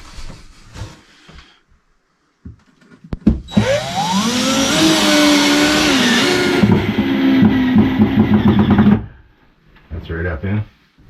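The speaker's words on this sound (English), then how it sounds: "a couple more screws right up into that joist, I think" A power drill drives screws up into a ceiling joist inside an off-grid cabin kitchen, one loud sustained whirring burst of about five seconds with rising pitch, framed by talk before and after.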